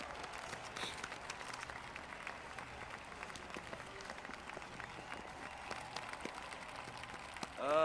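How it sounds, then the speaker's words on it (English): Crowd applause at a medal ceremony in the video game Marvel's Spider-Man, a steady wash of many hands clapping that holds evenly at a moderate level throughout, with no speech over it. "The claps."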